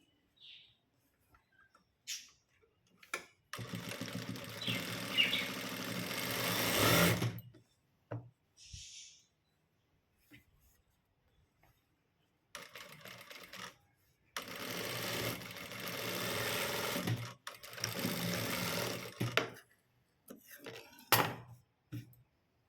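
Sewing machine stitching a blouse, running in two long bursts of steady mechanical whirring separated by short pauses and brief handling clicks, close and loud with no talk.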